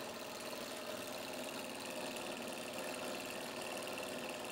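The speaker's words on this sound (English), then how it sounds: "This window motor here is running from this little cell, or battery" A small window motor powered by a homemade copper pipe cell runs with a steady, continuous mechanical hum and faint rattle, close and even throughout.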